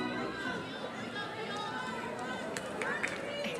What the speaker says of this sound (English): Here's some screams and cheers from the dugout.